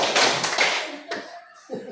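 A group claps hands together in short, sharp bursts on a spoken count, several quick claps close together followed by a couple of separate ones, with voices audible around them.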